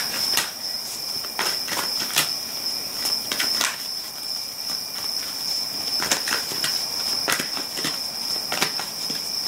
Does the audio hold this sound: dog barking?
no